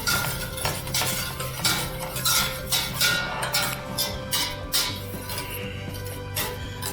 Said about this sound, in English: You're gonna want to whisk this in, break up all the lumps